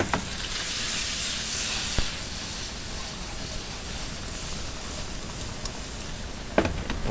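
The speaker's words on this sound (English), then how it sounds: "I'm going to take our peas first and throw those peas in there." Peas sizzling in a hot pan with chicken and onions, a steady close hiss through the whole stretch, with a couple of brief clanks or stirs near the start and end and no talking.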